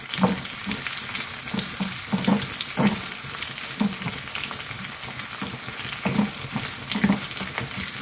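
Steady sizzling of frying in hot ghee with intermittent stirring clicks, close and moderately loud, no voices.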